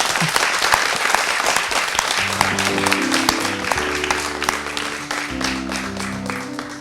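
An audience applauds for a song, steady clapping that fills the whole stretch, with music tones rising beneath it toward the end.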